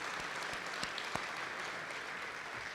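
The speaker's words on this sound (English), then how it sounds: "Give Bruce a round of applause." A room of colleagues at a leadership away day gives a round of applause. The clapping is even and sustained, fairly distant, with no talking over it.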